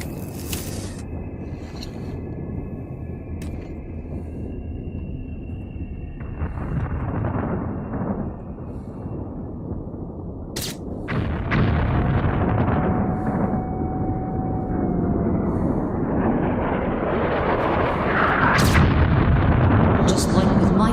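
Missile explosions in Metro: Last Light, set in a ruined dead city, rumble as heavy booming blasts over a continuous low roar, with sharp impacts near the middle and end, growing louder as the sequence goes on.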